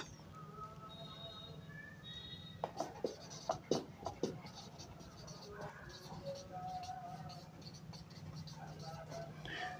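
Pen or marker scratching out math on paper or a board during a class 10 lesson on ratio and proportion, with a cluster of sharp, quick strokes in the middle over a steady low room hum.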